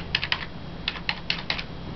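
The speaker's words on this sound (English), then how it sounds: "the Windows keyboard to type on the Mac" Rapid keystrokes on a Windows computer keyboard, used to type on a Mac, come in short clustered bursts with brief pauses between them, close and clear with no talking.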